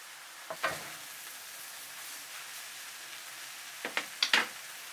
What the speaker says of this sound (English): Add the noodles, the seasoning sauce, some ground pepper. Stir from time to time for 3 minutes.